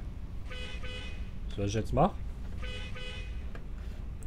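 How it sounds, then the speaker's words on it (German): Car horns honk repeatedly in the Euro Truck Simulator 2 video game, a few short toots and one stronger blast over steady engine rumble, while someone talks over them. "Es hupt da die ganze Zeit."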